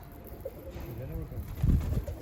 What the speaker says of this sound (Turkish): Şu kuşu biraz daha yemleyelim arkadaşlar.